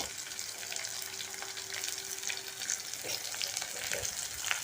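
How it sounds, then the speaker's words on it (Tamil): Steady oil sizzle as black pepper fries in a pan for a spicy tamarind gravy with brinjal, a continuous low crackling hiss broken by a few light stirring taps, fairly quiet with no talking. "இதே நல்லா வறுத்துக்கணும்"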